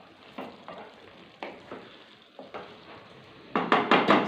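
Desi-style chicken karahi with garam masala sizzles and fries in a karahi pan, with recurring scraping stirs every second or so and a louder burst of spoon-on-pan stirring near the end; no talking.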